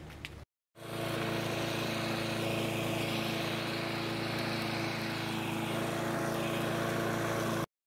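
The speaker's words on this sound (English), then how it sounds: "as I'm mowing the lawn" A lawn mower engine drones steadily and loudly at close range while mowing a yard on a hot day, with a brief gap at the start before the motor runs on without a break.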